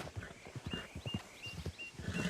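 A video game horse moves with a steady run of soft, rhythmic hoof thuds, close and moderately loud, with faint high tones drifting in the background.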